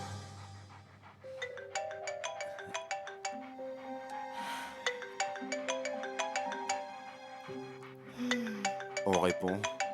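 A telephone ringtone plays a bright repeating melody throughout, loud and close, with voices talking over it near the end.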